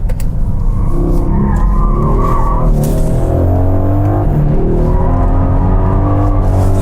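An AMG four-wheel-drive car corners hard on a mountain road, its loud engine droning steadily with brief tire squeal, heard up close and continuous throughout.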